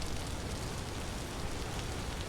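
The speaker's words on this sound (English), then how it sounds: "It's raining" Rain falls in the survival video game Vintage Story, a loud, unbroken wash of broadband hiss that fills the whole moment without pause or speech.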